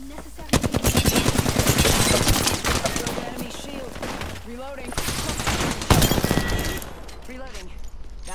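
Heavy automatic gunfire in the Apex Legends video game, rapid continuous bursts with a few pauses and single loud shots, while players talk over the shooting.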